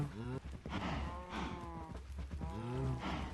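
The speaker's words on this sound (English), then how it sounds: "we have some cows hanging out here" Several cows in Minecraft low repeatedly, their drawn-out moos overlapping in a steady chorus close by on a cow farm, with no talking.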